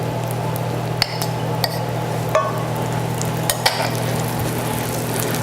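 A small pat of butter sizzling in a pan seasoned with extra virgin olive oil, a steady close fizz over a low hum, with a few light clinks of utensils.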